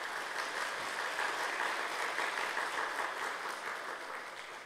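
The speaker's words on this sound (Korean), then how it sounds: "다시 한번 감사의 박수" An audience of faculty and staff at a church retreat applauds a visiting guest speaker, a soft, steady wash of many hands clapping together that stays fairly quiet and trails off at the end.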